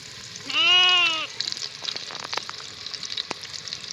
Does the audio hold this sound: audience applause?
no